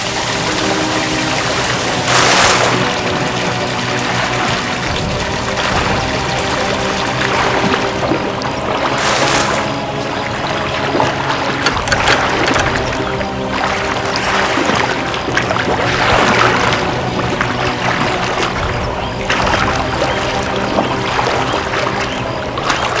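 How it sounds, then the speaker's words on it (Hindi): Water pours in a steady, loud, continuous rush at a collapse site strewn with debris in a crime drama, with music playing underneath the whole time. "पानी बंद करो।"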